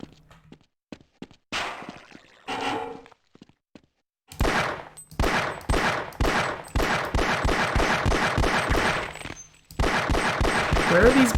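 Gunfire in a Half-Life map: a few scattered shots first, then a loud, rapid run of evenly spaced close shots, a brief gap, and another burst.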